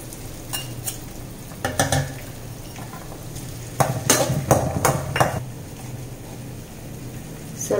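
Green chillies, potatoes and peas are stirred and fried in a pan, a soft sizzle under intermittent scraping and clinking of a spoon against metal, with a few sharper bursts of stirring.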